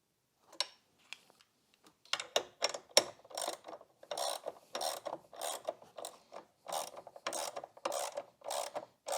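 A 3/8 ratchet snugs down the battery clamp bolts on a Renault Scenic 3, a few hesitant clicks and then quick bursts of close pawl clicking in short regular strokes, quiet and with no talk.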